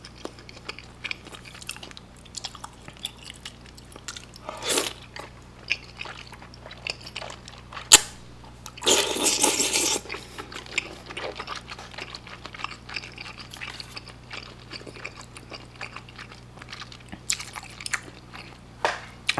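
Someone eats braised chicken with thick Chinese glass noodles, with close, sporadic chewing and soft biting sounds and a louder burst of slurping or rustling midway, without talk.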